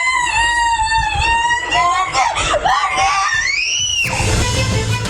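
A young girl screams in fear, a loud, sustained, wavering high-pitched wail that rises and bends repeatedly before breaking into rougher cries, close and continuous.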